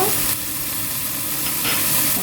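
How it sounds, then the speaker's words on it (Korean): Smoked duck and sliced green onions stir-fry in a hot pan, giving a steady, close sizzle with occasional scraping stirs and no voices. "대파 넣고 1분 정도 골고루 볶아주세요"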